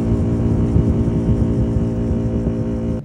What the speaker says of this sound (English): I'm going to insert a clip of the aircon unit last night